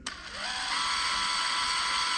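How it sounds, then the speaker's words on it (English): A 1/4 inch drill bit bores into a packed black powder rocket motor, a steady high-pitched whine that starts sharply and holds throughout, close and loud with no talking. "And then you just kind of drill it, pull it out"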